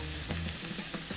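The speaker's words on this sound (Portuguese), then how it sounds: "Deixa fritar, não precisa pôr óleo." Food sizzles steadily in a preheated pan with no oil while arroz à napolitana is being made. The frying hiss is loud and close and runs without a break, with no talk over it.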